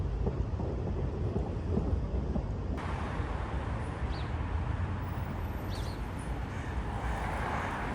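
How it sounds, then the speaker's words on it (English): Heavy rain pours steadily in Zurich, a dense, loud hiss of drops close to the microphone with rumbling wind underneath and no talking. "I forgot my umbrella and it's really raining."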